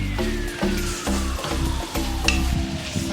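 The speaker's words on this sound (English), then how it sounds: "So all I'm doing now is just frying the vegetables." Steady sizzling of vegetables, including snow peas, frying in a hot pan for Korean fried rice, with rhythmic scraping and stirring knocks throughout.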